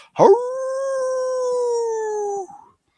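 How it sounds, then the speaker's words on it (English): A single long, smooth howl rises sharply, holds a steady tone for about two seconds, then drops away into silence. "one pack, one nation, one smooth howl"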